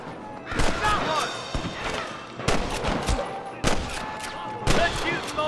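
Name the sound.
gunfire in the Red Dead Redemption video game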